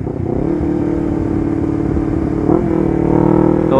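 Honda CBR250RR motorcycle fitted with an R9 GP series aftermarket exhaust, a loud, close engine note that holds steady and then swells into a rising rev near the end.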